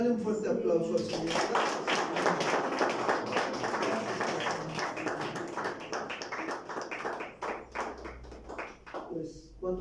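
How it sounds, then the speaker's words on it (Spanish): Church congregation applauding at a marriage dinner, a dense burst of clapping that fills most of the clip before thinning out near the end, with speech mixed in. "Dale un fuerte aplauso al Señor."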